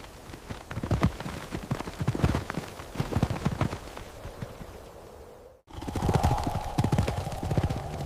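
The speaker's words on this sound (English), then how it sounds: "Rhythmic, heavy hooves crack the dry earth loudly." A stallion's heavy hooves pound dry earth in Białowieża Forest, a loud, close run of rhythmic thuds broken by a brief gap before the pounding resumes.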